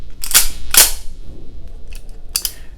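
Caps fired from a CZ 75 SP-01 Shadow Target pistol give sharp, close cracks: two strong snaps in quick succession, then a fainter click and another snap, with no talk.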